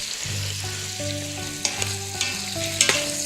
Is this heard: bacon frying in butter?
yes